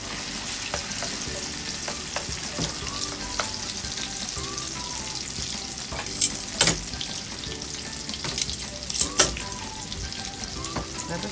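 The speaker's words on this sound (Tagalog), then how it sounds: "mainit na yung ating cooking oil. Ayan, ilalagay ko na itong aking talong." Eggplant slices fry in hot cooking oil for tortang talong, a steady close sizzle and crackle with occasional sharp pops and utensil clicks.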